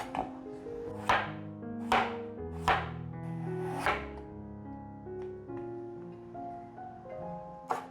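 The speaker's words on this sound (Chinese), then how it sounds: "把马铃薯切片" An unpeeled potato is sliced with a kitchen knife on a cutting board, five sharp, evenly paced chops landing close and clear over a soft background of sustained musical tones.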